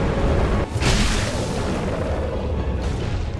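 A dragon boss in Dark Souls 2 unleashes fire breath, a loud roaring whoosh and rumbling burst that swells and holds as a dense continuous blast, with no voices.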